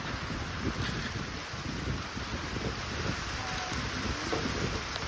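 Heavy rain pours steadily during a windstorm, a dense unbroken wash of noise with gusty wind buffeting the microphone throughout.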